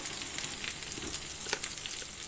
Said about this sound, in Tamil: அட்லீஸ்ட் ஒரு 3 to 4 மினிட்ஸ் நல்லா வதக்கணும்.